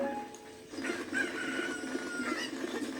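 A cucco chicken in Zelda Ocarina of Time clucks and squawks in a game sound effect, repeated rising clucks over low game ambience, moderately loud and without talk.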